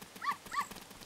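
A dog in Zelda: Ocarina of Time gives two short, quiet barks in quick succession, a clean synthetic game sound with nothing else around it.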